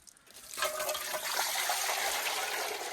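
Water rushes steadily from about half a second on, a continuous splashing pour for watering a plant at a home in Kinnaur, fairly loud and close with no talk over it.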